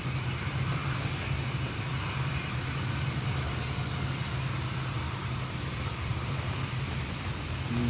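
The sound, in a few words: EasyJet airliner arriving to land in windy conditions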